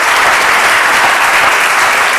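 Dense, steady applause fills a conference hall as an audience greets a professor taking the stage at an event on gender equality and societal resilience; the clapping is loud and unbroken throughout.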